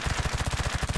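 Rapid automatic gunfire in the mobile shooter Undawn, a fast, steady burst of repeated shots with even rhythm, loud and close, with no talk over it.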